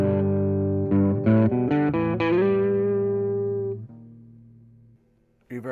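Distorted electric guitar chords ring out through a tube amp in 1 watt mode with reverb, a few strummed hits then a long sustained chord trailing off into reverb before a final stab.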